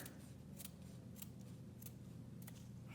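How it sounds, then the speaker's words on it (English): Scissors snipping through ribbon for a wood flower boutonnière, four crisp, evenly spaced cuts close up over a faint steady background. "I like to cut about right here,"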